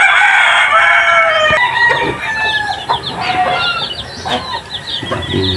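Brooding broiler hens cluck in a steady, busy chorus at their nests, with a rooster crowing now and then, close and fairly loud with no talking.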